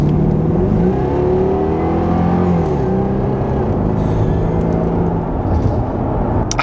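A 2006 Jaguar XKR with a 4.2-litre supercharged engine revs steadily and loudly up close, its tone climbing and falling through continuous rising harmonics for several seconds without any talk.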